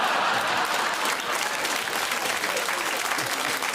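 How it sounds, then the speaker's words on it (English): A television studio audience applauds for several seconds, a dense, steady wash of clapping that stays loud throughout. "I think that is worth a round of applause"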